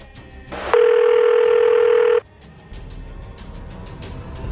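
Telephone ringing unanswered, a single loud electronic tone burst lasting under two seconds over low background noise.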